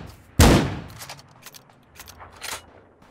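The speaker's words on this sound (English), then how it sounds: "Is that you taking those shots, Jacob, or is that someone else?" A single loud, close gunshot from a weapon in the online shooter Ring of Elysium rings out sharply, followed by fainter scattered shots and clicks in the distance.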